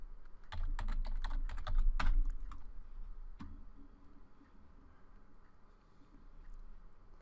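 Keys clatter on a computer keyboard in a quick burst of typing, close and crisp, then a single extra tap and quiet room tone.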